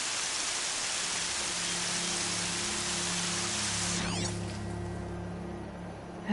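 Rain in the video game Horizon Zero Dawn, a steady hiss of falling rain that thins out near the end while a low tonal music drone continues underneath.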